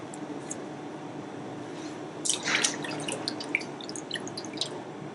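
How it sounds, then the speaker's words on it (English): Cuttlefish being washed under water in a kitchen, a quiet steady run of water with a cluster of dripping and splashing in the middle and scattered drips after, no voices. "prep up these 2 cuttlefish, give them a really good wash"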